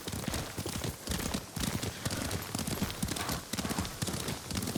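Horse hooves clip-clopping on a ride in the video game Ghost of Tsushima, a steady, loud galloping rhythm that runs without a break throughout.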